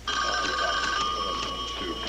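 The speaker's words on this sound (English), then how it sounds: "Will somebody get that phone?" A telephone rings in a police detective's office, its bright electronic bell pealing continuously and fairly loud, close by, with no talk over it.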